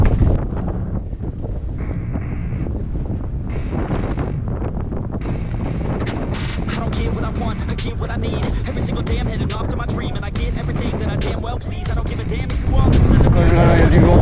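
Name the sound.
wind blowing on a mountain bike ride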